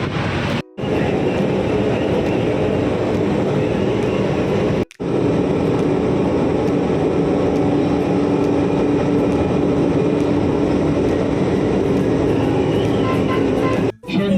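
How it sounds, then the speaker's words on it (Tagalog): Inside a passenger train heading to Cubao, a constant loud rumble of wheels and cabin noise drones on. It cuts out abruptly into silence three times, apparently from edits. "Ito na yung last train ride ko."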